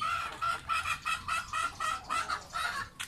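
Chickens cluck in a rapid, rhythmic run of close, fairly loud calls around a brood cock, with no talk over them.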